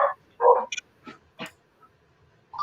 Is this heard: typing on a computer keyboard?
no